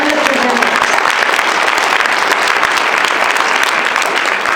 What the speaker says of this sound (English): a round of applause for all those fabulous folks and the presenters